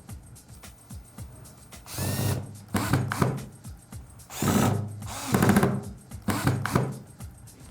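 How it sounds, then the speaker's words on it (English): A power drill driving Phillips head screws into pallet wood for a coffee table, in several separate bursts of whirring and grinding with short pauses between them, loud and close, with no talking. "After you've drilled your pilot holes, take the pilot bit out and put your Phillips head bit in. And then take a Phillips head screw"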